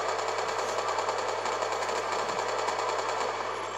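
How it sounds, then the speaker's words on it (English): Automatic gunfire in Call of Duty 2 on the slums map, aimed into a wall: one continuous, loud stream of rapid shots hammering at an even rhythm for the whole stretch. "I keep on shooting that wall to get that last kill."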